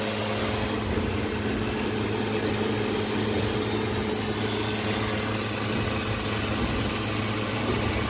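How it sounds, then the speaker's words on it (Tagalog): An 11 kW ZMVF air compressor motor spins without loading air, giving a steady, close, even hum and whir that holds unchanged throughout with no voices. "umiikot na po ang motor, no? Pero hindi na siya naglulod ng hangin"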